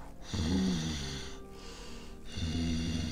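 A voice imitates heavy, rasping breathing, with two long drawn-out breaths separated by a brief pause, close and fairly loud.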